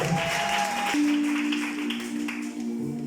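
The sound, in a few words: congregation applauding and cheering for Jesus in church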